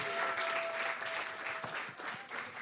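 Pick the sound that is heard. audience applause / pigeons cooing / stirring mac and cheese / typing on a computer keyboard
audience applause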